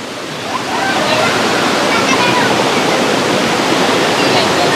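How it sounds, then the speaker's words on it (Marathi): Water gushes loudly and continuously from a broken main water pipe in Mapusa, a dense roaring rush that swells in the first second and then holds steady and close. "पळया कितें जालां तें धबधबो जाला म्हापशाचो धबधबो जाला"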